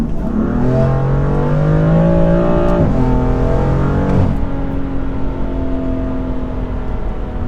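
A 580 hp BMW M3 engine revs hard while driving, its throaty exhaust note climbing in pitch, dropping briefly, then climbing again over a steady road roar.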